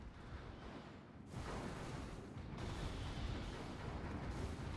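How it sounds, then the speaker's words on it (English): Missile volleys launch during a space fleet battle in the strategy game Stellaris, a loud, dense rumble of overlapping blasts that thickens and swells partway through and keeps going. "Missiles are away."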